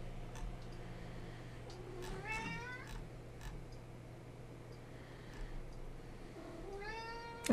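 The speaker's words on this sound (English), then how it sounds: "Yeah, now the cat's making noise." A cat meows twice, each a rising then falling wavering cry, moderately close over a steady low background hum, with faint soft sounds between.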